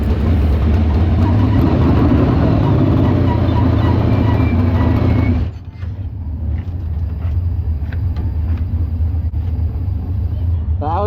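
A race car engine idles and rumbles loudly at Lawrenceburg Speedway, a steady low drone that drops abruptly about halfway through to a quieter, rougher idle, with faint clicks and knocks on top.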